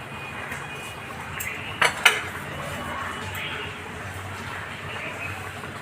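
Two quick metallic clinks as a lid settles onto a cooking pot of simmering pointed gourd curry, close and sharp against a low steady kitchen background.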